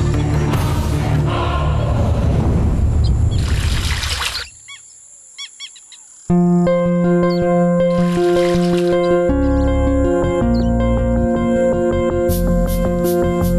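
Holy water splashes and pours as hands and feet are washed before entering a monastery, a steady rush for several seconds, then a few sparse drips in near silence before music swells in.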